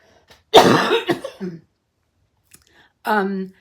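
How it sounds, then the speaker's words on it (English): A single harsh cough bursts out close to the mic, followed by a brief pause and then a shorter, throaty follow-up sound. "I'm going to cough, excuse me"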